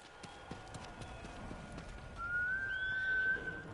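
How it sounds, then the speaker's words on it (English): Horse hooves clip-clop in the video game Ghost of Tsushima, a quiet, rhythmic patter of evenly spaced steps, followed by a sustained high whistling tone near the end. "Magic teleporting horse."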